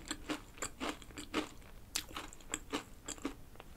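Close, crisp crunching bites and chewing of a chocolate-coated fried pastry filled with red bean paste, a series of sharp crackles repeating irregularly with no talking.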